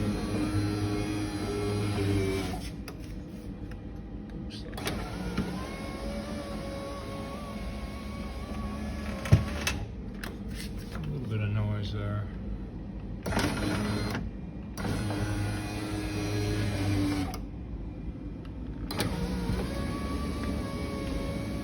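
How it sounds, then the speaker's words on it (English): Power window motor in the driver's door of a 2010 Infiniti QX56 running in several repeated bursts of whirring hum, separated by short pauses, close and moderately loud with a sharp click midway. "make sure that the window is going to operate as it should"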